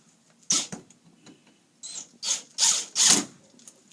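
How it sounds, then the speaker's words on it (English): A screw is being driven down into an Ergotron WorkFit sit-stand workstation, giving several short ratcheting, grinding bursts of turning with brief pauses between them, close and fairly loud, with no talking. "And then we screw down this one."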